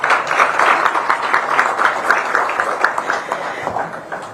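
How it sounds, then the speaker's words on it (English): Sustained audience applause at the launch event of the Bharat New Car Assessment Program, a dense wash of many hands clapping steadily throughout, fading slightly toward the end. "may I request for another applause for the Honorable Minister, sir."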